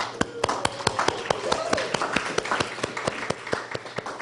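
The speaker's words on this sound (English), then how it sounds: "So give yourselves an applause." Audience at an awards event opening gives a round of applause: sparse, sharp hand claps repeating steadily, with voices faintly beneath them.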